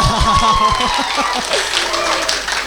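A studio audience on a youth radio talk show claps in a light scattered patter beneath a host's voice and some chuckling, fairly close and moderately loud.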